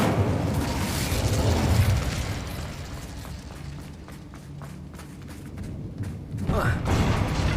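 Incendio fire spell cast in a Harry Potter game on PS5: a loud rushing, crackling burst of magical fire that swells and trails off, followed by a second flare near the end over low rumbling game ambience.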